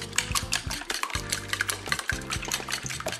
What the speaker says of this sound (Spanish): ahora batimos los huevos